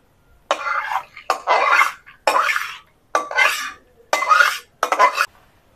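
Hot caramel swirled around the inside of a bowl to coat it for an eggless semolina pudding, heard as six close, scraping bursts of about half a second each with brief silences between.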